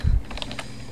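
A short burst of computer keyboard typing, a handful of close, crisp key clicks over about a second with no voices.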